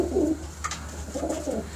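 Pigeons of a prized racing breed coo in a loft, two soft throaty coos about a second apart, close, with no talk over them.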